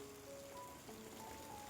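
Heavy rain pours steadily outside a village house, a dense even hiss of drops on surfaces with no talk, loud and continuous throughout.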